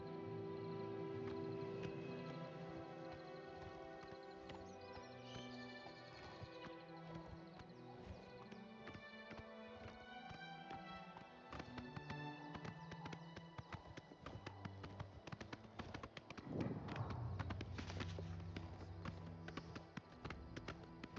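Rhythmic horse hoofbeats in The Elder Scrolls IV: Oblivion Remastered clop along steadily over a layered game soundtrack, with a brief louder burst near the end.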